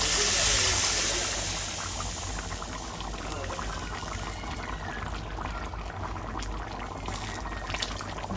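A pot of kuzhambu curry simmers and bubbles as it reduces, a dense, steady crackling fizz of boiling liquid heard close up with no voices over it.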